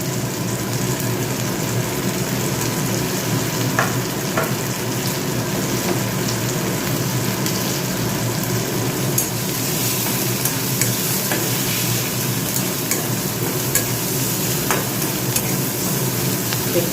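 Eggs fry in a pan with salt and turmeric while being stirred, a loud, dense, continuous sizzle with occasional scraping and tapping, close and steady, with no talk.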